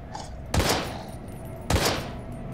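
Two sharp, booming gunshots ring out about a second apart in the zombie survival horror video game Daymare 1998, each a loud burst that quickly fades over a low background.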